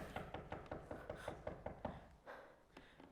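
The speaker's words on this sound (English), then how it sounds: "I hear a knocking at the south gate." Repeated knocks on a gate, played as a stage sound effect in a live Royal Shakespeare Company performance of Macbeth: a steady run of about a dozen evenly spaced, fairly close raps, fading out near the end with no voices.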